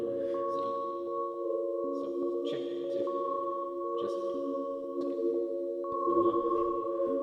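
A Qu-Bit Mojave Eurorack module gives sustained tonal drones with a steady pitch, lit by brief sparkling grains and a little added reverb. The sound is moderate in level and plays alone without voices.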